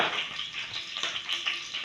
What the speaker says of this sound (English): My pot is on heat, so I'm adding palm oil now